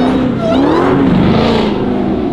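Several cars revving, a Pontiac G8, a Ford Mustang and a Dodge Hellcat, with a loud, steady engine roar whose pitch rises and falls, heard close and continuous with no talk.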